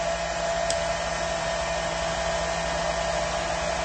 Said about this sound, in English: So I'm going to turn that hairdryer to high temp with the speed on low